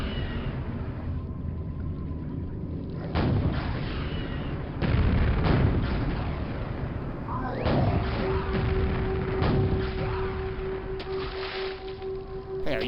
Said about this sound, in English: I heard an explosion and thought it was the Vor bullet.